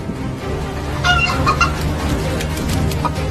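A bald chicken clucks and squawks in a short series of calls over a steady low background rumble, close and fairly loud with no talking.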